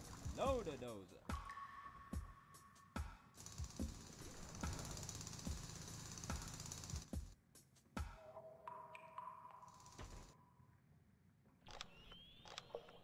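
Drilling into a rock wall in the mining video game Manic Miners, with a sustained mechanical grinding drone broken by clicks, beeps and game effects, while a person talks over it.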